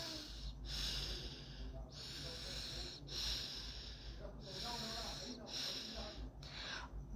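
A person with a blocked nose breathes through one nostril while the other is pressed closed, making repeated airy, hissing inhales and exhales in a steady rhythm of about five cycles, close and fairly loud.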